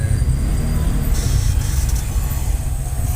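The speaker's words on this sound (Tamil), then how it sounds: "ஆனால் ஒரு நாளைக்கு இந்த மாதிரி டிராஃபிக் இருக்கும்." Heavy office-hour road traffic in Chennai in light drizzle: a steady, loud low rumble of cars, buses and trucks idling and creeping nearby, with a brief hiss like an air brake and continuous hum throughout, no talk.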